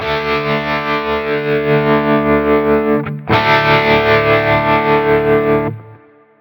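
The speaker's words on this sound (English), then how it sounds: "It's boosting the signal. We even clipped a little bit." Loud, boosted electric guitar chord through a Quad Cortex modulation effect, with gritty clipping distortion and a wavering modulation, briefly cut, then struck again before fading out.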